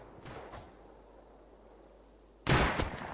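Gunfire in the Rust video game: near-silence, then a sudden loud burst of rapid shots near the end.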